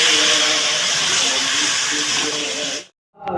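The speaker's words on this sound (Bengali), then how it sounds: "এখন জল দিয়ে দিচ্ছি" Water pours into a cooking pot of potatoes with a loud, steady rushing hiss that runs for about three seconds, then cuts off abruptly and leaves a brief silence.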